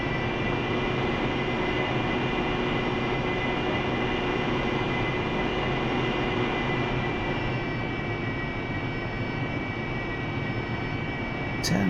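A Harrier jet engine in the DCS flight simulator drones steadily while the aircraft taxis slowly, a constant loud whine with layered tonal hum and no speech.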